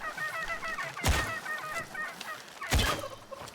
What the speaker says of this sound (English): Damn chickens! I will kill you, chicken.